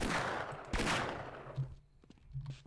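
Revolver shots in the Half-Life video game: two loud, sharp blasts about a second apart, each followed by a short decaying tail, then quieter clanks and thuds.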